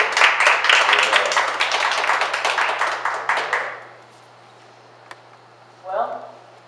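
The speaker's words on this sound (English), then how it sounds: "Clap your hands." A church congregation claps hands during a morning service, a dense burst of rapid, loud applause for several seconds that stops abruptly, followed by quiet and then a voice speaking.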